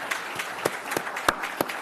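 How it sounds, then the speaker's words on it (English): Scattered, sparse claps from a small audience at a school district board meeting, a handful of distinct hand claps spaced irregularly rather than full sustained applause. "Give them a round of applause."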